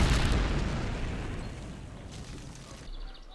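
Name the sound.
C4 explosion uprooting a 300-year-old tree stump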